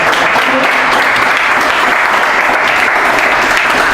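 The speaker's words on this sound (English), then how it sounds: "So another clap." Loud, dense clapping like a burst of applause runs steadily for about four seconds, close and even, with no voices.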